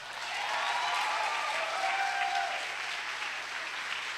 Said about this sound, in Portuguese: Aplauda mesmo